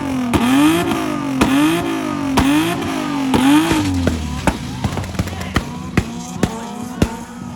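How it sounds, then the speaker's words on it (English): A rough-running, blown Scion tC engine with sharp, repeated rod-knocking bangs over a revving drone, the knocks speeding into rapid irregular pops near the end. "engine is actively grenading itself every time it runs. I can literally hear it destroying"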